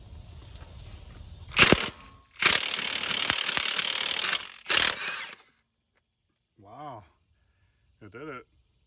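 A Milwaukee M18 power ratchet removes an Acura ZDX crank pulley bolt, giving several loud, close mechanical ratcheting bursts of a few seconds each before it stops, followed by two short rising whirs.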